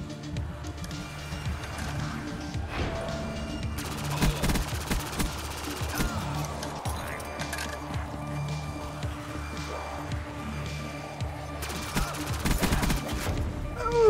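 Gunfire in a modded Black Ops zombies murder-mystery map, bursts of shots crackling over a dense, busy game soundscape, with louder volleys near the middle and end.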